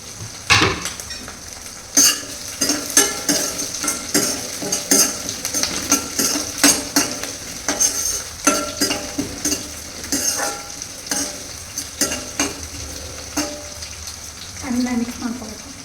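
Chilli fries in a pan while a spoon stirs it, giving a steady sizzle broken by frequent scraping and clattering strokes against the pan, close and fairly loud, with occasional talk alongside.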